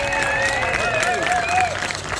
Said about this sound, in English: So how about a round of applause for Kevin Foster?